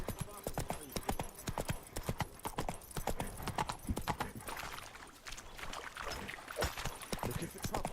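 Horse hooves clip-clop in a rapid, steady rhythm as a horse is ridden in the video game The Witcher 3, loud and close, with a voice speaking over the galloping.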